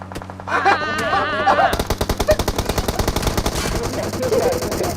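Rapid automatic gunfire from PUBG Mobile rattles loud and close in a long burst of evenly spaced shots, following a brief stretch of game music and effects.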